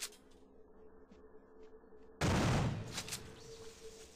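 Turret gunfire in the System Shock 2 video game: after a quiet stretch of faint ambient hum and soft clicks, a sudden loud burst of rapid shots erupts and continues as sustained fire to the end.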